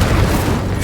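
Incendio fire spell cast in the Hogwarts Legacy video game, a short, loud, deep whooshing boom lasting under a second.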